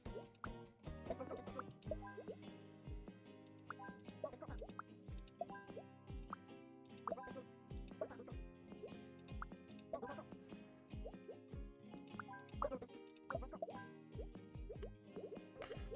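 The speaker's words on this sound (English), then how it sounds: "Water cooler." A water cooler in a video game gurgles and plops in a quick irregular stream of faint bubbling drips, continuous and low in volume with no talking.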